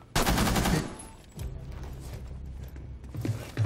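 Gunfire in the tactical shooter Rainbow Six Siege, a loud dense burst of shots near the start followed by quieter mechanical clatter and further shots, with no talk.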